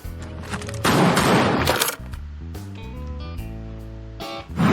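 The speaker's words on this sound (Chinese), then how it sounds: "枪声" A gunfire sound effect bursts out as a dense roar of rapid shots, followed by sustained tonal notes like an edited music bed, with a second burst at the very end.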